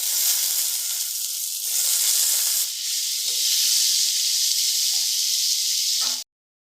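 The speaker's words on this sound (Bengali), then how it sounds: "পেঁয়াজগুলো হালকা একটু নেড়ে নেবো নিয়ে এবার দিয়ে দিচ্ছি ডুমো ডুমো করে কেটে রাখা আলু" Diced potatoes tumble into onions frying in oil, setting off a loud, continuous close hiss of sizzling that swells as they land and runs steadily until it cuts off abruptly.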